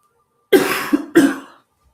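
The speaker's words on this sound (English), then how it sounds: "I still need to cough." Two harsh coughs in close succession, loud and near, with a brief catch between them, then silence.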